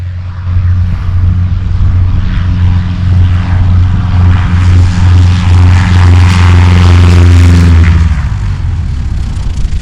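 A small propeller plane takes off from a wet grass runway, its engine droning loud and close with a strong steady low hum that builds to a peak and then eases slightly as it departs.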